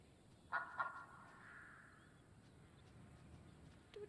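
A duck in the video game Lost Ember gives two short, sharp honks close together near the start, followed by quiet ambient background with a faint blip near the end.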